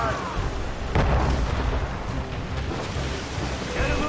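Ship cannons firing in Assassin's Creed Rogue, a deep boom near the one-second mark followed by rumbling blasts over surging sea noise and wind.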